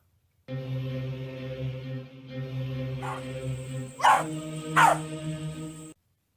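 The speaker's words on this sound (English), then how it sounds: "all of a sudden, I got a dog" A dog whines in a sustained, tonal drone, then gives two short, sharp barks close by, spaced under a second apart.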